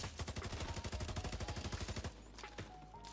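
Rapid automatic gunfire in The Division 2, an assault rifle firing shock ammo in a fast, steady burst of about twenty loud shots. The burst stops abruptly after two seconds, leaving faint game ambience and a few scattered clicks.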